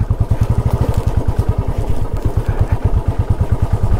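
A motorcycle putters along a rough jungle trail with overgrown edges, its engine thumping in a fast, even pulse close by with light clatter and no talk.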